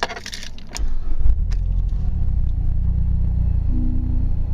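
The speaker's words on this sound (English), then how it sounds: "so you'll have to start it with the key" A 2010 MazdaSpeed 3 Sport is started with a key: a brief jangle and click of keys, then the engine cranks and catches into a loud, steady low idle rumble.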